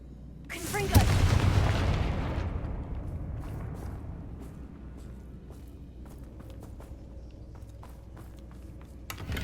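The Confringo spell explodes in the Hogwarts Legacy video game, giving a loud sudden blast that rumbles away over a couple of seconds, followed by quiet scattered clicks and steps.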